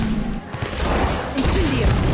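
Casting the Inflatus spell in Harry Potter Magic Awakened produces a short burst of crashing, whacking impacts and swishes, dense and loud throughout the brief moment.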